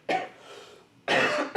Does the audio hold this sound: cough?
yes